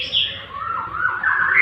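A white-rumped shama sings a bright, loud run of high whistled notes that slide and warble without a break, close to the microphone with no talk over it.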